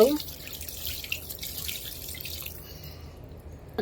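Water trickles and splashes steadily into a cooking pot, a continuous soft pouring sound at close range that fades slightly toward the end.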